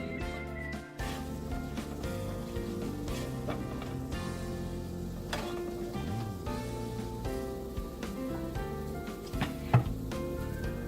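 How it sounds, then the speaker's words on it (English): Cumin seeds sauté in hot oil for a Maharashtrian-style sabudana khichdi, giving a faint, steady sizzle and crackle that runs throughout with occasional stirring clinks. "Once the oil is heated, add cumin seeds."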